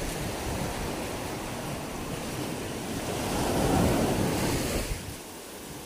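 Ocean waves break and wash up on a shore, a continuous rushing surf that builds to a louder surge before fading, with wind buffeting the microphone and no voices.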